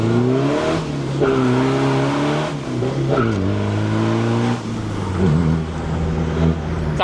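A tuned car accelerates hard on a test drive, its engine note climbing through the gears in strong rising harmonic sweeps with a brief dip at each shift, loud and close throughout.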